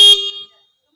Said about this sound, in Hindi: इतना हॉर्न बजा रही हूँ